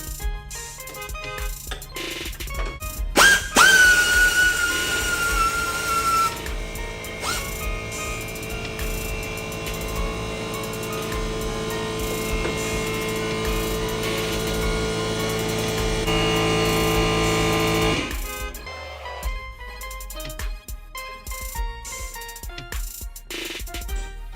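Pneumatic air wrench spinning off valley cover bolts on an LS engine swap, a loud sustained whirring run of about fifteen seconds after a sharp burst, then quieter tool clinks.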